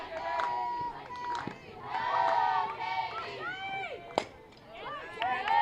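Crowd noise at a college softball game picked up by a field mic, with children and fans shouting and cheering in overlapping voices, fairly close and continuous, plus a sharp knock partway through.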